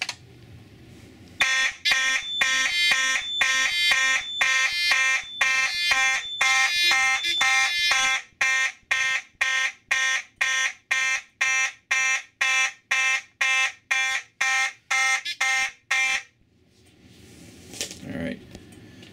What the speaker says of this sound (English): The horn sounds really raspy.